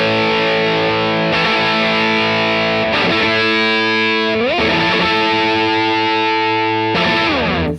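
An electric guitar through a Warm ODD overdrive pedal, a Fulltone OCD clone, playing loud, gritty distorted chords that ring out in several sustained strums with slides between them.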